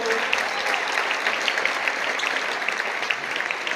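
A crowd at the Copa Galicia men's final applauds a Club Deportivo player as he is introduced, giving steady, fairly loud clapping that lasts the whole time.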